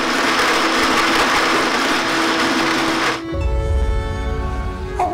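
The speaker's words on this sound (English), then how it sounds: "Activating blender." A blender runs with a loud, harsh whirring roar for about three seconds, then drops abruptly into a lower, rumbling hum.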